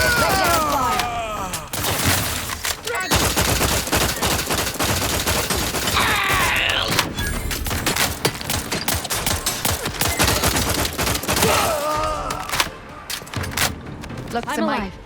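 Weapons fire in the sci-fi video game The Outer Worlds 2: dense, loud volleys of rapid gunshots and blasts crackling almost continuously, with game voices speaking over the battle.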